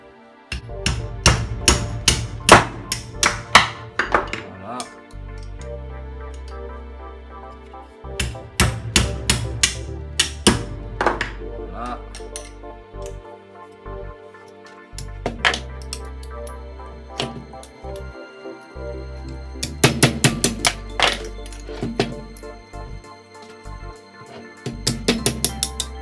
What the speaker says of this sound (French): Je vais prendre un petit marteau.